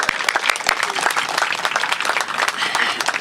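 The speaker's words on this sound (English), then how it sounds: "Can we please give a round of applause to Beth White and her Houston Parks Board team?" Applause for Beth White and the Houston Parks Board team at the Sharpstown Trail Phase 1 groundbreaking, a dense, steady crowd clapping throughout with sharp individual claps poking through and some voices mixed in.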